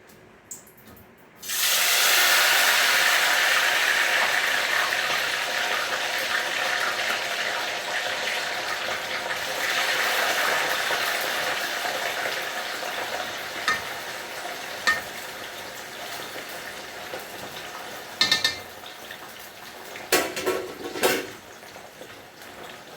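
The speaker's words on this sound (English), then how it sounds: "So you're just going to put in the fries" French fries drop into hot oil in a home kitchen and erupt into a loud, dense bubbling sizzle that slowly settles to a steady fry, with a few sharp clinks near the end.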